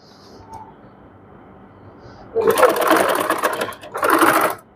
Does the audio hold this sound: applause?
no